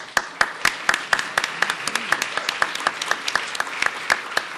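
A small audience at a Chicago mayoral forum claps in sparse, individually distinct hand claps that keep a loose, uneven rhythm, close and fairly loud, with no talk over them.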